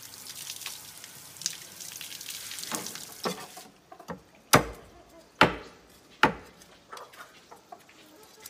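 Bamboo rat meat is chopped with a cleaver: several loud, sharp thuds land roughly a second apart, following a stretch of busier splashing and clattering kitchen noise.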